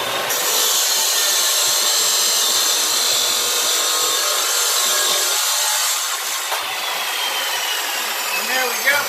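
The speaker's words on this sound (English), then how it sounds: "That saw cuts through this metal like a hot knife cuts butter." A saw cuts steadily through a metal piece clamped in a jig, giving a loud, continuous grinding whine for about nine seconds that eases slightly near the end.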